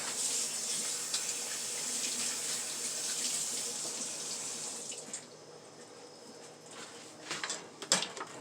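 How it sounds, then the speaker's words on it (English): Hands are washed under a running kitchen tap: a steady, fairly close stream of water that cuts off partway through, followed by a few soft clunks and splashes. "Wash my hands."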